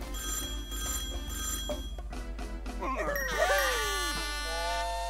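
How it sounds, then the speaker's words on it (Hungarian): A telephone rings in the video game Neighbours from Hell 2, a bright ringing that sits over steady game music and background ambience at moderate loudness. "Lent már csörög is a telefon."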